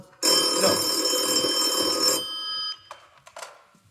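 An old-style telephone bell rings loudly in one long burst, then stops, followed by a few faint clicks and light rustles.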